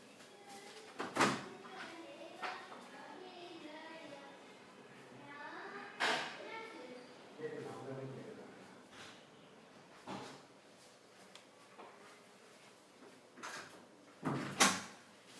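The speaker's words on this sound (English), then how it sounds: "Sorry, some sound emanating from my house, so therefore I just locked the door." A house door is shut and locked, giving a few sharp knocks and clicks scattered among quiet room noise and some talking, in a recorded legal lecture at home.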